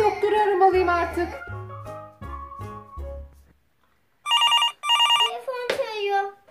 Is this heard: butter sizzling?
no